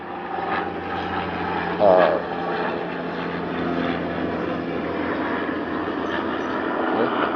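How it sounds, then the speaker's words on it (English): A helicopter drones overhead with a continuous, fairly loud rotor and engine rumble, and a voice speaks over it briefly. "Who's really in that helicopter?"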